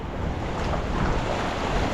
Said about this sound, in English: Waves pounding.